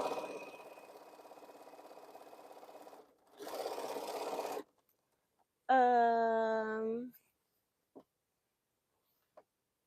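A sewing machine stitching quilting runs steadily for about three seconds, pauses, then runs again briefly, followed by a loud tonal whine that sweeps downward and a couple of faint clicks.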